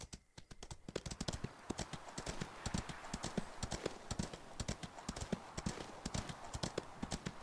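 Horse hooves clip-clop in a steady, rapid rhythm throughout, close and distinct, in the Ostwind video game, with a faint voice under the hoofbeats.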